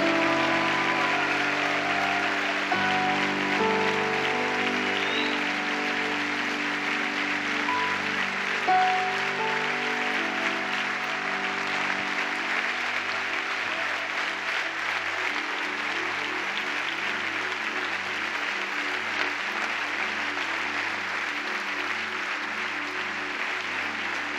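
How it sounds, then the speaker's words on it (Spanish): A church congregation claps steadily for about twenty seconds during a worship service, with sustained tones from the worship band underneath. "Si va a aplaudir, aplauda con fuerza, con ánimo."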